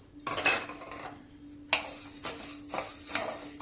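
Dry Mappillai Samba rice and another rice rattle and scrape in a metal pan as they are dry-roasted and stirred, with intermittent clinks and rustling bursts, close and fairly quiet.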